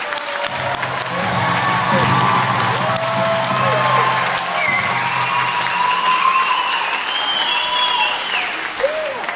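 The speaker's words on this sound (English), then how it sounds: "let's give them a round of applause" A large crowd at a Native American honoring ceremony for a 2026 graduating class bursts into sustained, loud applause mixed with cheers and whoops, with voices calling out throughout.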